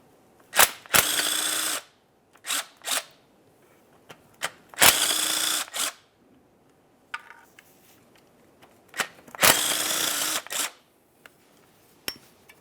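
Power tool bursts loosening oil pan mounting bolts on a 2005-2010 Dodge Dakota with a 4.7L V8, three loud runs of roughly a second each plus shorter clicks and blips, close and without talk.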